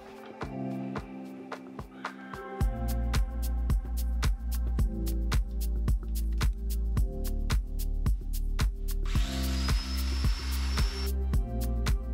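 A domino joiner cuts mortises for mitre joints in the wooden border of a handmade chessboard. Its motor spins up, then whines loudly and steadily with a rapid pulsing buzz, and a higher tone rises near the end.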